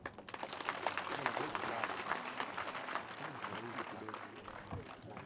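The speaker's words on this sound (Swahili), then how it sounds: "Makofi kwake." A crowd at a secondary school desk-and-chair handover ceremony claps steadily in sustained, dense applause lasting the whole stretch, close and fairly even in loudness.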